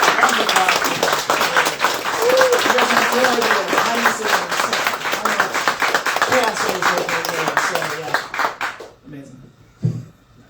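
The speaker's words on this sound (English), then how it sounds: "making this whole thing like actually get like a round of applause" A live developer Q&A audience gives a round of applause for Natalie: loud, dense clapping mixed with cheering voices for about nine seconds, then it cuts off abruptly, leaving a few faint sounds.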